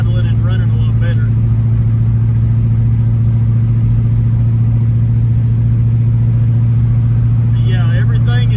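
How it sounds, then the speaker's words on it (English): A Chevrolet S10 truck with a V8 engine runs steadily, a loud, constant low engine drone filling the whole stretch, with brief higher whine or voice-like sounds near the start and end. "Then the truck started idling and running a lot better."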